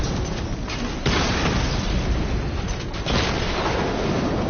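Explosions and combat blasts from the Batman: Arkham Knight video game pound continuously, loud and dense, with a few heavier booms standing out through the roar.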